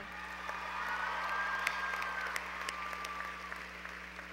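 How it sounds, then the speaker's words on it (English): Graduates at a University of Georgia spring commencement give a round of applause, broad continuous clapping from a large crowd heard at some distance, with a few sharper claps and faint cheers. "I hope that my classmates will join me in a round of applause for your tireless efforts"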